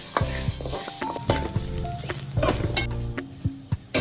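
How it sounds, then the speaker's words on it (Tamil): Green gram dry-roasting in a pan, stirred steadily with soft scraping and light sizzling, close up and moderately loud, with a few brief knocks near the end. "1 கப் பயரை இப்படி நல்லா வறுத்துக்கணும்."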